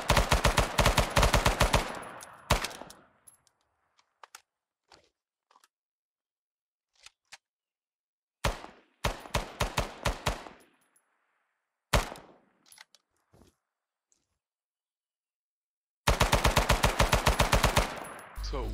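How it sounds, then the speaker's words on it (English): A submachine gun fires in the Arma 3 SOG Prairie Fire video game in loud, rapid automatic bursts, with sharp single shots and short gaps of near silence between volleys. "Very similar to the submachine gun we had in the beginning."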